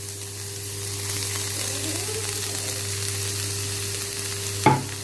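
Chopped onions and tomatoes frying in butter on a tawa for bread pizza, a steady close sizzle with a low hum underneath and a sharp clink of a utensil near the end.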